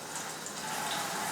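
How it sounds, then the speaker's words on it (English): Cold tap water running steadily over Idaho potatoes as they are rinsed, a continuous close hiss and splash with no pauses or voices. "We're going to go ahead and rinse them under cold water."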